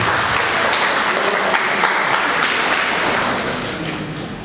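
Dense, steady applause from a conference audience at a French-language BIM geometry masterclass, loud and continuous throughout before easing slightly at the end.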